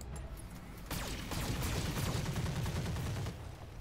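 Weapons volley in the Roguetech BattleTech mech game: a sudden burst of overlapping shots and missile launches after a quiet start, sustained loud rumbling fire for several seconds.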